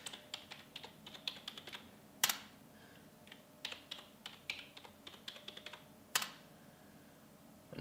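Password being typed on a computer keyboard while setting up an Armbian login on an H3 Android TV box: steady bursts of close, crisp key clicks with two louder sharp clacks, like the enter or space bar, and no talking.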